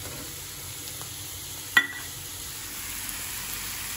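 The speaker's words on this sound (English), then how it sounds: "sauteing my mushrooms with garlic powder and salt and pepper" Mushrooms sauté in butter with garlic powder, salt and pepper, a soft steady sizzle with one sharp clink of a utensil partway through and no voices.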